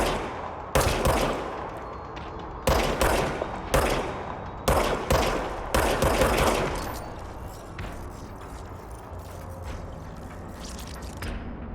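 Repeated bursts of gunfire from a gun in the video game Control, several loud volleys in quick clusters over the first six seconds, then fading into quieter mechanical clicks and ambient rumble.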